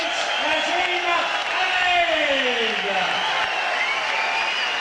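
A boxing arena crowd in Scotland applauds and cheers around Naseem Hamed, a steady dense wash of clapping and voices throughout, with overlapping calls and a commentator talking over the noise.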